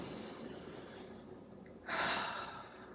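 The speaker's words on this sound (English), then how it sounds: "let's take a breath together" A single deep breath drawn in slowly and let out softly, close and fairly loud against a quiet room-tone background, with no talking.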